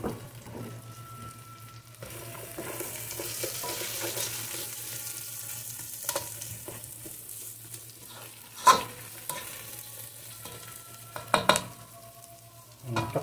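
Sliced onions sautéing in a pan while a Filipino fish dish is cooked, a steady low sizzle under soft stirring scrapes and a few sharper clinks of a utensil against the pan, with no talking.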